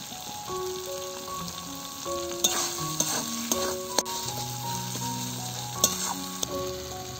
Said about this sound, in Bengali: আবারও একটু মশলাটা কষিয়ে নিচ্ছি